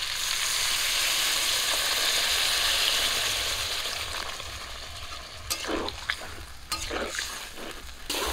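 Elephant foot yam sautéed with cumin paste gives a steady, even sizzle in the pan, followed by a few louder scraping stirs near the end.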